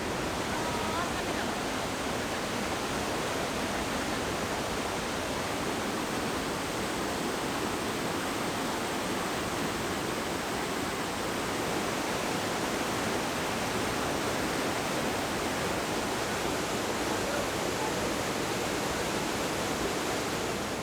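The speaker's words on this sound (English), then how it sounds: "with a series of small waterfalls winding through the boulders" Water rushes continuously down a series of small waterfalls over boulders, a dense, even roar that holds steady throughout.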